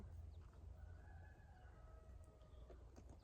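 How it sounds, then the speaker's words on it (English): A rooster crows once in the distance, a faint drawn-out call over low outdoor background noise. "You hear that rooster saying, wake up, wake up."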